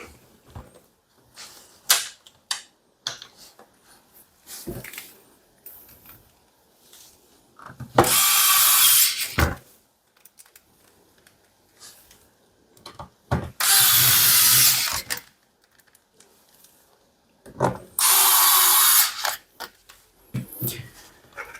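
Screws driven in with a power driver while a hot water tank is swapped out: three loud, sustained whirring bursts of about a second each, separated by quieter clicks and handling knocks.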